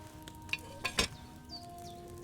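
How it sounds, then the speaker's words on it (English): Wine bubbles and simmers in a cauldron over a flame in Kingdom Come Deliverance 2, a soft steady sizzle with a few brief clinks and pops, fairly quiet and alone. "Hear that bubbling? It's boiling."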